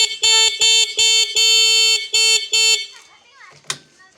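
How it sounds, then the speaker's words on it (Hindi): An electric bicycle horn beeps in a burst of short electronic tones, about seven quick loud honks in an uneven rhythm, then stops, leaving faint background noise and a brief knock near the end. "देखिए ये हॉर्न"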